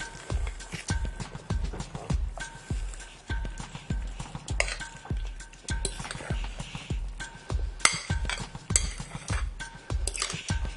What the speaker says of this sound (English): grab your baking dish and spoon the mixture into that